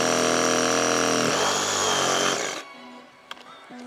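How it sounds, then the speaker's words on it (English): Loud, close whine of a Ryobi auger drill digging rocky soil, grinding steadily, then spinning down and cutting off, leaving a quiet hum and a faint clunk. "So here's some specs with the Ryobi auger drill."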